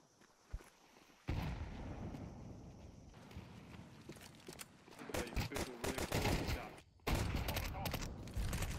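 Grenade blast and sharp gunfire bursts in Counter-Strike 2, loud clustered bangs and crackling shots arriving in a burst around the middle, then a heavy impact near the end, with players' voices mixed in.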